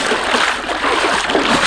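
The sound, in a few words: water splashing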